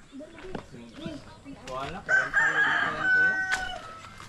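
A rooster crows loudly and close by in a long, wavering call, with clucking from other chickens and a person talking nearby.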